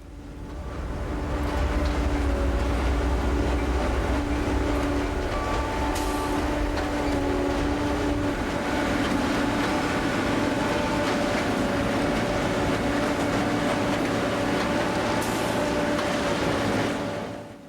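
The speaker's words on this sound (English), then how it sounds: "The tamper sticks its vibrating tongs into the ballast and squeezes the rock up under the ties." A railroad track tamper machine works its vibrating tongs into the ballast, squeezing rock under the ties. It makes a loud, continuous mechanical roar with steady droning tones and occasional sharp clanks, close by.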